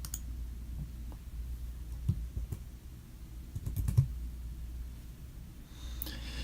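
Quiet mouse clicks while working in editing software on a computer, a few faint taps spread across the moment, with a slightly stronger click near the middle and low background hum, no talking.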